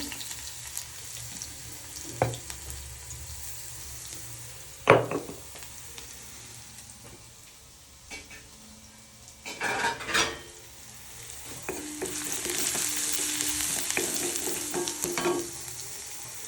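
Chopped garlic sizzling and frying in hot ghee, with bursts of crackling and stirring, some water running in the background, and no talking.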